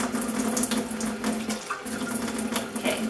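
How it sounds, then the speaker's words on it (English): Warm tap water running steadily into henna powder, a continuous close splashing stream with a brief dip midway, no voices. "So now I'm gonna add a little bit of warm water to the henna."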